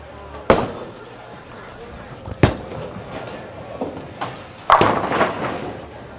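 A big asymmetrical solid bowling ball rolls down an oily house-shot lane and strikes the pins, with several sharp crashing impacts spaced a couple of seconds apart over steady alley background noise.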